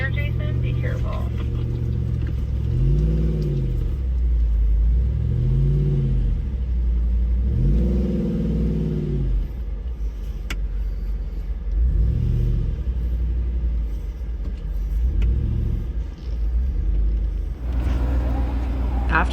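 A Jeep Wrangler on a slick rock trail revs its engine in repeated loud surges, about five rising and falling pulls over a deep idling rumble, close to the microphone, with voices heard at moments.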